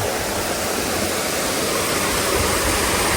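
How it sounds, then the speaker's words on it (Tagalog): A waterfall pours with a strong flow, a steady loud broadband rush of falling water that stays constant and close throughout, with no other sounds standing out. "Ayan o, yan ang falls guys oh."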